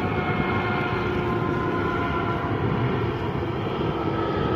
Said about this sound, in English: This is Aer Lingus from Shannon, Ireland. It is nonstop from Europe to here.